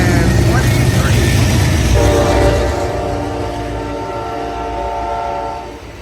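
An Amtrak Coast Starlight passenger train hauled by P42 locomotives rolls loudly past the Oakland Coliseum station, a steady rumble with rail clatter and a horn tone that fades as it moves away.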